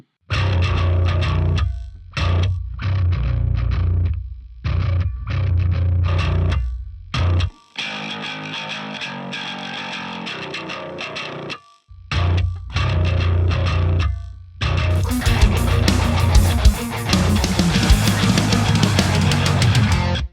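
Distorted bass from Waves CLA MixHub plays choppy clanky phrases with abrupt stops, then a longer gritty passage and a denser burst of distorted tone near the end.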